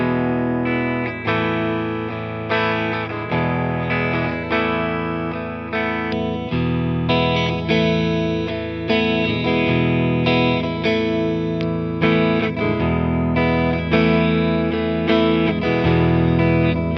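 A Harley Benton Classic MR, an affordable Mosrite-copy electric guitar, plays clean through a Fender Deluxe Reverb amp with reverb on, ringing strummed chords and single notes in a steady loud flow with no talking.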